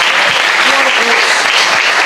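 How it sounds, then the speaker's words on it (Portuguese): Loud, close applause from a church congregation welcoming a pastor, a vigorous burst of many hands clapping together for the whole brief moment. "Receba o pastor em nome de Jesus com uma salva de palmas bem forte"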